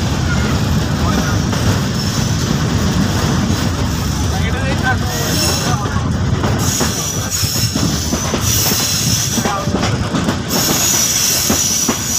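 The Chilmari Commuter train runs on rails on the route from Ramna Bazar to Kaunia Junction. A loud, steady rumble of wheels and carriages carries on throughout, with squealing wheels and a clickety-clack rhythm.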